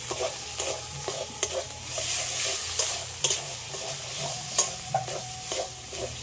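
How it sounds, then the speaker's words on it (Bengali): Spice masala frying in a pan with sugar added, a steady close sizzle under repeated scraping and clinking strokes of a spoon stirring, with no voices. "মশলাটা তো ভালোভাবে কষিয়ে নিলাম"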